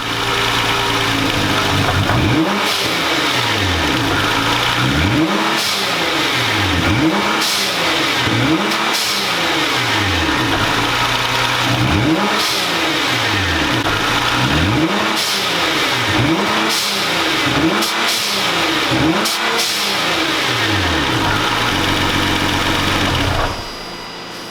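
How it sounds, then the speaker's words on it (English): A Nissan GT-R R35 fitted with GFB blow-off valves is revved repeatedly in roughly a dozen sharp, evenly spaced blips, each rise followed by a quick flutter and hiss of released boost, loud and close with no talking. "I'm going to give you a couple more revs so you can hear"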